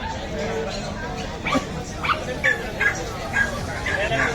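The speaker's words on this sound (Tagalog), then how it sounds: "Daming mga aso dito mga sir, mga master." Several sharp dog barks and yips ring out at irregular intervals over a busy background of voices and chatter.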